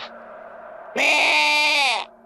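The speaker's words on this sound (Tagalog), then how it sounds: "Ang batang kambing ay nagsimulang umiyak" A young goat gives one loud, close, drawn-out bleat lasting about a second over a quiet steady background hum.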